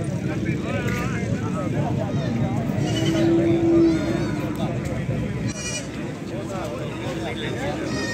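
Goats bleat at a goat market in Faisalabad amid a steady background din, with a longer bleat in the middle and people talking throughout.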